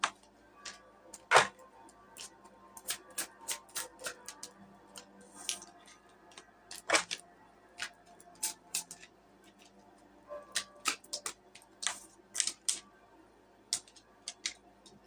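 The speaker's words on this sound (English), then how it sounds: "Let me get a couple more cards out." Tarot cards pulled from a deck, a string of crisp, irregular snaps and flicks of card stock, some quick clusters and some isolated, close by and fairly quiet with no talking.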